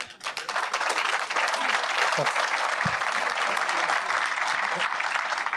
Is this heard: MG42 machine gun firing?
no